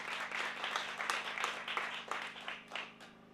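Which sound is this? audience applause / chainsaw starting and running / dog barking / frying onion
audience applause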